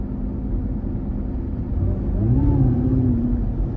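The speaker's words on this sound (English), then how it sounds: "the whir you hear just when you put your foot halfway into it, that supercharger" A supercharged 2017 Cadillac CTS-V with a 6.2-liter V8 in the Carbon Black Package pulls hard, its deep engine rumble thickening as a rising whine climbs over it partway through and holds to the end.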